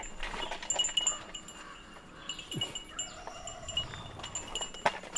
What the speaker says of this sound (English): Oh, we got some sheep.